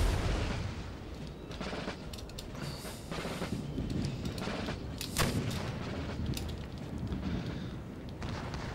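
Artillery fire in the Empire: Total War game with the Darthmod mod, with several sharp cannon reports and booms over a constant dense battle din of clatter and rumble.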